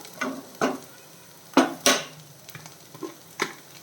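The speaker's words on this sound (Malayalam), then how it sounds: "ഇഞ്ചി വെളുത്തുള്ളി പേസ്റ്റ് ഇട്ട് കൊടുക്കാം" Ginger garlic paste cooks in a pan for a capsicum and mushroom masala. A spoon stirs it in a few distinct, close scraping strokes over a faint, soft sizzle.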